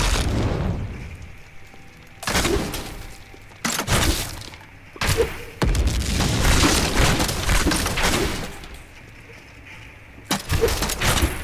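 Explosions burst repeatedly in the action game Diablo 3, about six loud booming blasts with a shattering crunch, separated by short quiet gaps.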